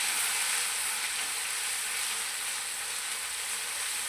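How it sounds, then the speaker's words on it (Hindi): Green chilli, ginger and garlic paste sizzles steadily in a pan over low heat, a continuous, even frying hiss with no talk over it. "हरी मिर्चें अदरक लहसुन, ये 3 टेबलस्पून मैं डाल रहा हूँ। हल्की आंच में हम इसको फ्राई करेंगे।"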